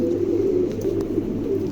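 A pair of large fancy Shoukhin pigeons coo close by, with low, soft, continuous throaty rumbling and no talking.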